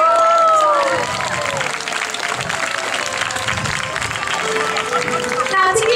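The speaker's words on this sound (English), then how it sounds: "give her a big round of applause" An audience at Whipsnade Zoo applauds a sea lion during a show, sustained clapping and a few cheers over a bright whistle at the start and end, with a keeper's voice talking over it.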